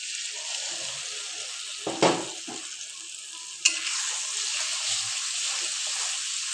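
A paste of ground ginger, garlic, tomato and whole cumin fries in a pan with a steady close sizzle, broken by a couple of sharp spoon scrapes and stirs.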